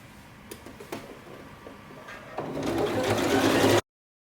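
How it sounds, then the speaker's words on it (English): Domestic sewing machine stitching tiny seam-allowance stitches along a built-up collar neckline, a few soft ticks early on, then a rising buzzing run of stitching that cuts off abruptly. "So you see how tiny I'm stitching here"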